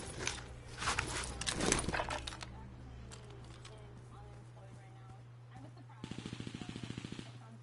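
Gunfire in Warzone: a dense burst of shots at first, quieter pops after, then a rapid automatic volley near the end, with voices talking under it.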